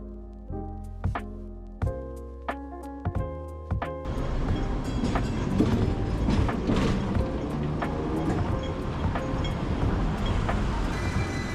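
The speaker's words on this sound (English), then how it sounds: "we hopped on the Ding Ding tram to find a nearby restaurant." A Hong Kong Ding Ding tram rumbles along steadily on its rails with rattling and clanking, preceded by a few sharp metallic clacks at the start.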